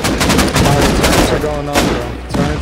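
Turrets in Rust Console Edition fire loud, dense, rapid bursts that run almost without pause, with heavy, close shots throughout.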